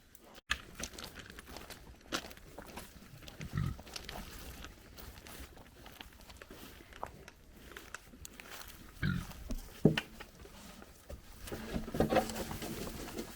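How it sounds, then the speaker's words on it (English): Pigs chomping and snuffling at pumpkins, with wet crunching bites, scattered thuds and shuffling movement, moderately close with no talking. "And so the pigs had a feast."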